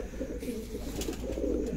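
Pigeon cooing from a long-kept bird on a rooftop, a low steady rolling coo close by, continuous across the moment with faint chirps above.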